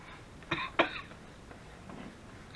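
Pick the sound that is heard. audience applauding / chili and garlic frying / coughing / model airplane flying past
coughing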